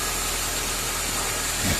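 A Toyota Corolla AE111 engine idles steadily after a radiator change, a constant low mechanical hum with faint vibration running throughout, no voices over it.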